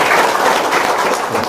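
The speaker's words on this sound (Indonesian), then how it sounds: "Tepuk tangan dong." A dense wash of audience applause fills the whole short clip, steady and fairly loud with no voices standing out.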